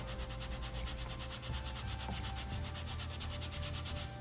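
Steady, continuous rubbing and sanding on the painted surface of a MK5 GTI front lip as paint is worked off by hand, a close, even abrasive scrubbing that runs without pause and with no talk.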